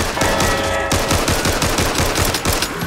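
Rapid automatic gunfire rattles in dense, continuous bursts as players shoot zombies in the video game Back 4 Blood, loud and close with no talk.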